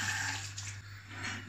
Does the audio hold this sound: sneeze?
no